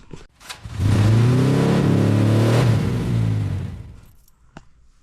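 A Kawasaki KLX140 dirt bike engine revs up on a dyno, climbing into a loud, sustained mechanical drone for about three seconds before winding down; a couple of faint clicks follow.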